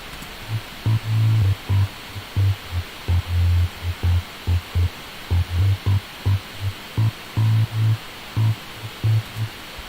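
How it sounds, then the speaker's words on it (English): A synth bass line in a demo track bounces between octaves, playing punchy rhythmic pulses that alternate between a higher and a lower note. It sounds clear and upfront, with no talking. "Next we've got the bass line"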